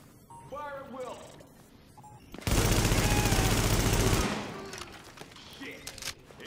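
Sustained automatic gunfire from The Division's Resistance mode on Pier 93, a loud dense burst of rapid shots lasting nearly two seconds, with game voices calling out before and after.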